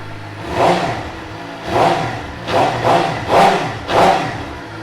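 A 2017 Suzuki GSX-R750 motorcycle with about 8,440 miles and bar end weights, standing on a stand with its engine revved again and again. Five loud blips climb above a steady idle and fall back between them.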